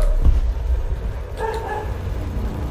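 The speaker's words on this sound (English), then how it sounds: "Why is the dog annoying today?" A dog barks and yips indoors in a couple of short bursts, fairly close, over a low steady background hum.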